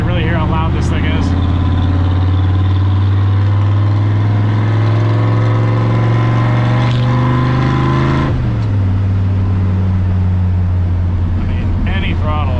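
A high-compression Ford F100 truck engine drones loudly from inside the cab while driving with the window down, a strong steady rumble that drops in pitch as the truck shifts or eases off.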